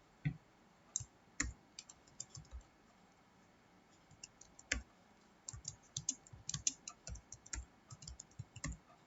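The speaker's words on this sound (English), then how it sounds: "Now we'll type the program." Keys clatter on a computer keyboard as an HTML program is typed into Notepad, quiet irregular clicks in bursts that grow denser toward the end, with no talking.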